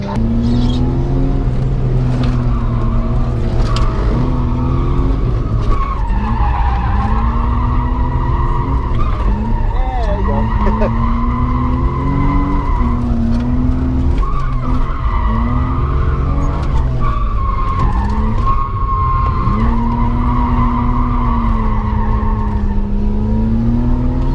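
A BMW drift car's engine revs hard and tires squeal and skid repeatedly as it slides around at a Nitro Circus event, loud and close throughout.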